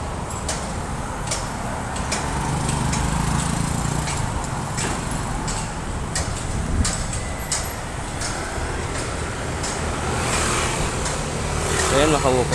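Cars passing on a busy road beside a shopping mall in Davao, a steady wash of traffic swelling and fading as vehicles go by, with someone talking over the noise throughout.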